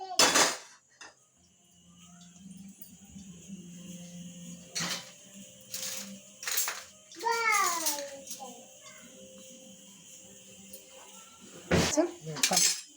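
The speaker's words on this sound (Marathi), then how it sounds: "आता कढई घ्यायची." A metal kadhai and cooking utensils are picked up and knocked about in a home kitchen, giving scattered sharp clanks and scrapes among quieter stretches while a person talks.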